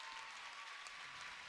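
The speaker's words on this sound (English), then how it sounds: "she gets a nice round of ovation here in the crowd" Steady applause from a crowd in a gym during a regional volleyball championship, honoring the Region 1 Coach of the Year; continuous clapping at moderate distance with no talk over it.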